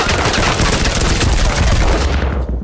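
Loud, close, sustained gunfire in the Firewall Zero Hour video game, a dense, saturated stream of shots that fades slightly at the end.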